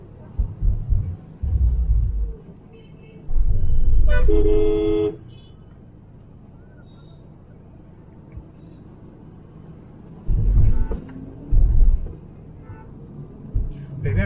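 Road traffic in Vizag rumbles past, with several car horns honking in short bursts, one loud sustained toot in the middle and more beeps later, heard from inside a moving vehicle with occasional passenger chatter.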